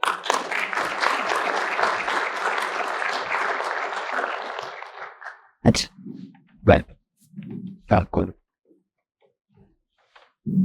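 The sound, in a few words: audience applause welcoming panelists on stage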